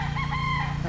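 A gray broodstag gamecock crows up close, one sustained, loud crow that fills the brief moment with no voices.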